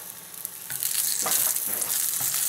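Oil and butter sizzle in a hot omelet pan for a SPAM, mustard, cheese, tomato and pepper omelet, a close hiss that swells louder partway through and keeps crackling steadily, with no speech.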